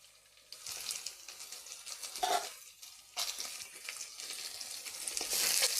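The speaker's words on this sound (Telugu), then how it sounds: "తర్వాత చికెన్ వేసాక కొద్దిసేపు మూత పెట్టుకొని ఉడికించుకోవాలి." Chicken fries in a pan with soft sizzling and intermittent stirring scrapes, fairly faint and close, with short quieter pauses between bursts.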